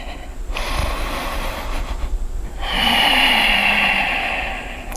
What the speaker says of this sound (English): Take 3 complete breaths.